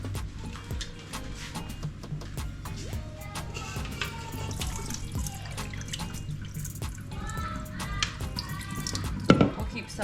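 Liquid being drained off cooked barracuda at an outdoor cleaning spot, a close run of trickling, dripping water with small splashes and clinks, steady throughout with a brief louder splash near the end.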